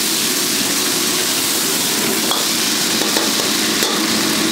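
Food for pad thai searing in smoking-hot oil in a pan, a loud continuous close sizzle with a few faint scraping stirs, no talking.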